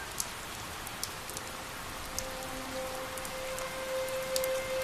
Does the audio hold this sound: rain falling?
yes